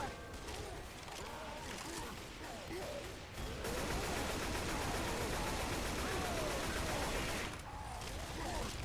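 Rapid, sustained gunfire rattles away at the Tank in Left 4 Dead 2, a dense stream of shots broken by a brief pause and then resuming even louder, with a voice talking over it.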